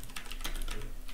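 Rapid keystrokes on a computer keyboard as a search is typed, a steady run of close, crisp clicks with no talking.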